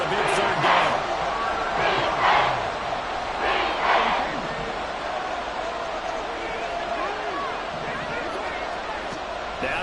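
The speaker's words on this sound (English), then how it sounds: "The crowd getting into it as we come up on a big 3rd down." Stadium crowd in the video game Madden 24 cheering ahead of a big third down, a steady roar with swelling bursts of noise rising over the constant din, with a commentator talking throughout.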